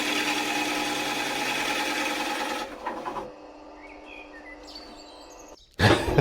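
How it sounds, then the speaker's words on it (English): A drill bores a 35mm hole into a wooden cabinet door, a steady buzzing whir for nearly three seconds that then stops, followed by faint birdsong and a short sharp noise at the end. "drill a 25mm sized hole into my door"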